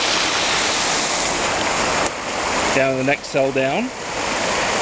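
Creek water rushing steadily through a forest at a gold claim, a constant broadband wash that runs throughout while someone speaks briefly near the end.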